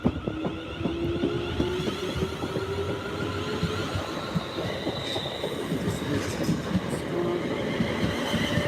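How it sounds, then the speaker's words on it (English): A train bound for Birmingham International rolls past at a station, a steady rumble of wheels on rail with faint squealing and clatter, sustained and fairly close throughout. "Here comes my train to Birmingham International"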